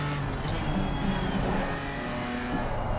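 BMW M4 GT4 race car on the Laguna Seca circuit in a racing simulator, its engine droning loud and close, rising and falling in pitch through the gears with no voices.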